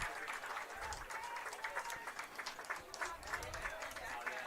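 Crowd applause ripples through a college football stadium as an injured linebacker is carried off the field, steady clapping sustained throughout with faint background voices mixed in.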